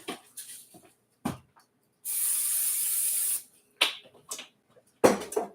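A single continuous hiss of aerosol cooking spray onto the bottom of a pan, lasting about a second, surrounded by clattering handling noises before and after.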